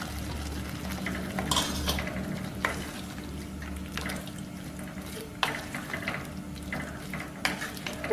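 Paneer cubes stirred and frying in a kadai for restaurant-style kadai paneer, with a steady sizzle and scraping spoon and utensil clinks, close and continuous with no talk.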